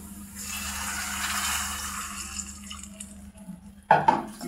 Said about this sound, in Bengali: এখন যেটা করবো আমি পানি দিয়ে দিব